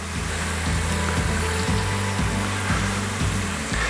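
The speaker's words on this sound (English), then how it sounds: "And fry them for just another minute." French fries deep-frying in oil make a loud, even bubbling roar that runs steadily throughout, with a low rhythmic hum underneath.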